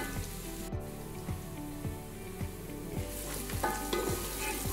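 Steady frying sizzle of ginger and garlic with occasional stirring scrapes in a pan, continuous and close, with a faint rhythmic background beat underneath.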